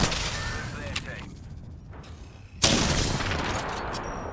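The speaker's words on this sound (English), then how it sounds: "Icy Spider taking some shots with the Sentinel" Sentinel rifle shots in the video game Apex Legends: a few sharp, loud cracks with a heavy boom near the middle, over steady game noise and mixing into the battle din.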